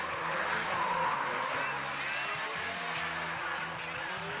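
Dodge Viper drift car with a Paxton supercharger at a Formula Drift qualifying round in Long Beach, a distant engine drone and tire noise over a hissing crowd-and-track backdrop, with faint voices present.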